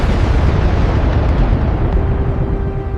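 Roar of a rocket launch, loud and continuous, a dense rumbling blast that holds steady for the whole stretch with no gaps and no voices.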